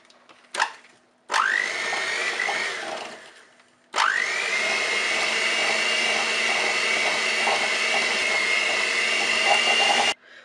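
An electric hand mixer beats lemon yogurt Bundt cake batter at low speed, starting with a short burst, pausing, then whirring steadily and loudly up close for several seconds with no talk.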